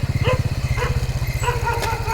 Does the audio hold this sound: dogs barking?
yes